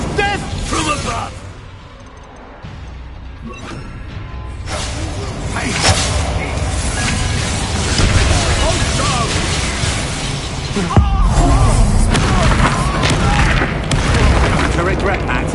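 Confringo and Incendio spells burst in Hogwarts Legacy, booming explosions and whooshing fire blasts that come in repeated loud hits, with a voice speaking over the combat.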